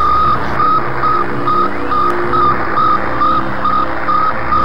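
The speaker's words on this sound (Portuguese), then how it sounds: "Aqui dentro tinha um radiotransmissor que ficava transmitindo esse som aqui" Sputnik satellite's radio transmitter signal from 1957, a steady series of regular electronic beeps, about eight in under five seconds, over hissing radio static.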